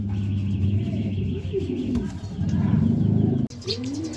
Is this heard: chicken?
no